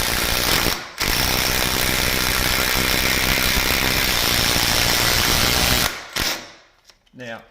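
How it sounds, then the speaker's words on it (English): A large screw driven into a log cabin wall of a Byron Cabin kit with a power driver: a loud, continuous mechanical whir and grind, briefly paused near the start, then cutting off with a few short bursts at the end. "I'm going to screw in here."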